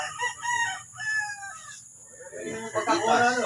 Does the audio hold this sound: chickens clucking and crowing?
yes